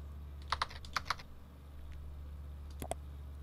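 Quick bursts of keystrokes on a computer keyboard, a few sharp clicks at a time with short pauses between, faint and close over a low steady hum.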